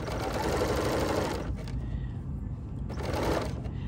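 A sewing machine with an L 8 Series Elasticator attachment stitches elastic in two close bursts of rapid, even needle clatter separated by a short quieter pause.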